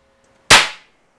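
A Winchester Apex .50 caliber magnum inline muzzleloader with a 28-inch rifled barrel fires a single loud, close shot, a sharp blast that fades out over a fraction of a second in otherwise quiet surroundings.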